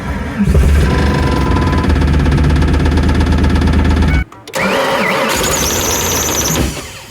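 A project car's engine cranks and runs loudly and steadily up close, cuts out briefly, then restarts with a harsher, whining tone, amid a suspected starter fault and melting wiring.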